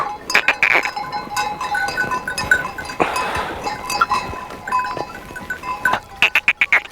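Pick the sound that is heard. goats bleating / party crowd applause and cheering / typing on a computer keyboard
goats bleating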